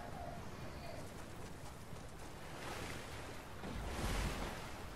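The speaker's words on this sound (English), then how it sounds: "let's just go down this river" River water flowing in a Star Wars video game, a steady rushing wash of moving water that swells louder toward the end, continuous throughout with no clear voices.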